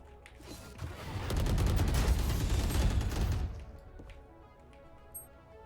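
Rapid bursts of gunfire from the tactical shooter Valorant, a dense volley lasting a couple of seconds, loud and close, then fading into quieter game ambience.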